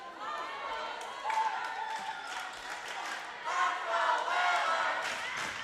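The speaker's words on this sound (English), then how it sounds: "Crowd across the way chanting, "Let's go Whalers."" Crowd across the gym chanting in unison at a high school volleyball match, Nantucket Whalers against Nauset Warriors, a steady loud wash of voices with swells of cheering throughout.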